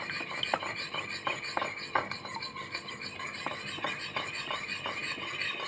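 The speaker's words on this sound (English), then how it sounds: "We mix again, so the egg, the salt and soy sauce can mix it perfectly." A utensil stirs raw egg with salt and soy sauce in a bowl, making a steady run of scraping, rasping strokes with light taps against the side at a brisk, uneven rhythm.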